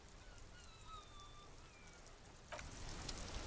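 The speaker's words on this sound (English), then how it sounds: "This rain will not let up anytime soon." Rain falls in the video game Disco Elysium as a soft, steady hiss, thickening into a louder downpour partway through, with faint thin whistling tones early on.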